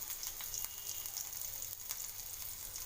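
Ginger slices fry in a pan for jeera rice, giving a faint, steady sizzle with light crackles and pops scattered across it and no voices.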